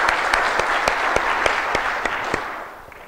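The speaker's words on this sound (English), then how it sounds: "Give him a round of applause." An audience at a security conference's opening remarks breaks into steady applause, dense clapping that holds for a few seconds and then begins to fade.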